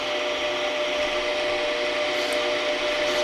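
A square nose scraper plunges straight into the bottom of a turned wooden lamp base on the lathe to cut a recess, making a steady, loud, unbroken scraping whir throughout.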